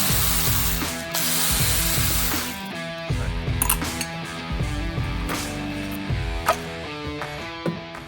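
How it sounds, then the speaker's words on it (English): A 10mm ratchet removing ignition coils from a car clicks rapidly in bursts, close and loud, with metallic ticking and brief pauses between strokes. "let's remove the ignition coils using a 10mm."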